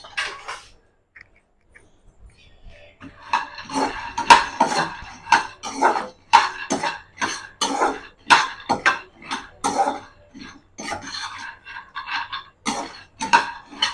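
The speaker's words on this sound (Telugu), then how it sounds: "ఇప్పుడు మనం పల్లీల్ని వేయించేసుకుందాం." Peanuts being dry-roasted in a pan and stirred with a ladle, giving a steady run of light, rattling clinks and scrapes in quick bursts, close up with no talking.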